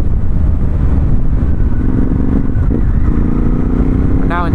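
A 2019 Ducati Hypermotard 950SP motorcycle engine drones loudly and steadily while ridden in touring mode off the throttle, with heavy wind and road noise throughout.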